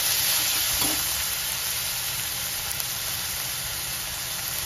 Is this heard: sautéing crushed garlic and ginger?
yes